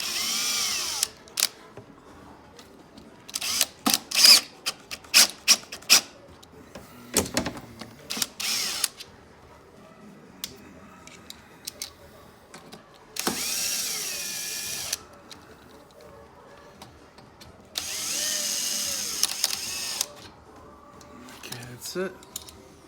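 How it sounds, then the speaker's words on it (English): Cordless power drill driving in the bolts of an HMWPE underbelly skid plate on a 2019 Can-Am Outlander Max XT, several short whirring bursts and longer sustained runs close to the mic, with clanks and handling noises between them. "I'm gonna tighten it a little bit with my drill."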